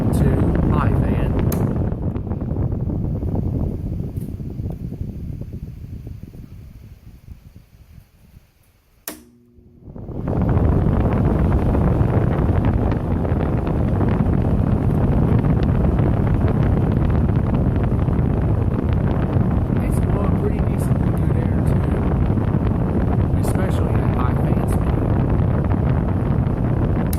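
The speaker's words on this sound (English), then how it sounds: "Blowing some pretty decently good air in here. Going to high fan." An Arctic King WWK05CM71N window air conditioner blows air on high fan, a loud, steady whooshing rush that fades briefly, cuts out for a moment, then returns at full strength and holds constant.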